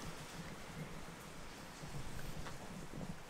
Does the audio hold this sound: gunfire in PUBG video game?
no